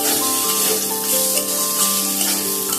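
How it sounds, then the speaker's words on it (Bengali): Nuts and washed raisins frying with vegetables in a pan for a broken wheat pulao, giving a steady, dense sizzle that stays close and even throughout with no talking. "সবজির সঙ্গে এগুলো একটু ভেজে নিচ্ছি"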